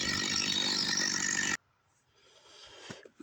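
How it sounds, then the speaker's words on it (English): A STIHL MS 250 chainsaw cuts oak firewood with a loud, rough buzzing snarl for about a second and a half, then cuts off abruptly, leaving faint low rumbles and a few soft knocks. "maybe rip some noodles with this STIHL 250"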